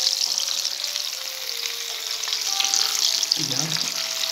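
Crucian carp frying in a pan makes a steady, close sizzle and crackle throughout, with a brief lower rumble near the end as the pan or fish is moved.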